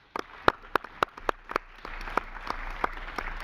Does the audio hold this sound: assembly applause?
yes